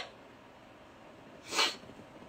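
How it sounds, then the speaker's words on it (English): A single close sneeze bursts out partway through, during a live nail-collection stream, after a stretch of quiet room tone. "I have to sneeze again. I can feel it."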